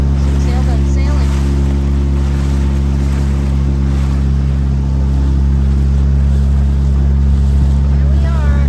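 Sailboat under way on open water near Key Biscayne, a continuous loud low engine-like drone with wind and water wash throughout, no pauses.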